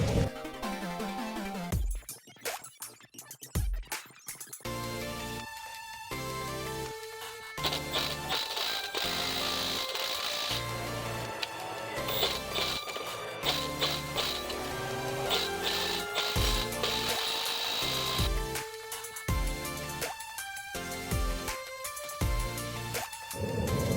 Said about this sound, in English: the Milwaukee ratchet, it's struggling real hard to take off a simple bolt.